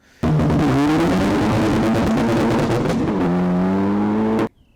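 An Ariel Atom 4 sports car engine revs hard and loud at close range for about four seconds. The rasping tone holds steady, climbs again near the end, then cuts off abruptly.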